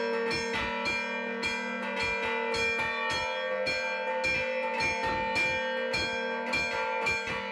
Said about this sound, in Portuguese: Então o sininho, ele começa a tocar já esse ritmo, pam, pam, pam, pam, pam, e os outros vão improvisando e variando em cima disso